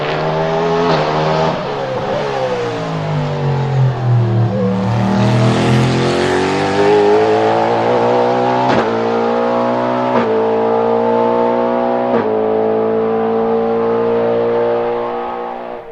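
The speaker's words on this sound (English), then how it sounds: "those Cadillacs sound absolutely glorious" Cadillac race cars in a Super GT race roar past with rising and falling engine pitch, a loud sustained high-revving howl that sweeps down as one passes, with sharp gear-change breaks, no voices.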